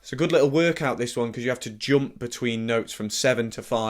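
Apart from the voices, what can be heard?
None of the usual background noises is heard.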